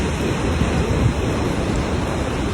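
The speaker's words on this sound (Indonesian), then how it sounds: "Bunda mendengar suara ombak lembut menyapu pantai." Gentle ocean waves washing onto a beach, a steady soft broadband rush with faint wind, continuous and unbroken.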